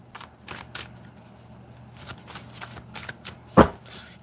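Tarot cards being shuffled by hand for a reading, a series of soft riffling bursts and light slaps close to the ear. A sharper snap lands near the end of the stretch, and no one talks.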